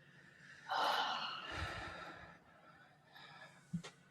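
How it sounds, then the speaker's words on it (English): A single deep breath during a guided tapping exercise: a long audible inhale, then a slower, softer exhale that trails off, ending with a brief faint sniff, close and quiet. "And just take a deep breath."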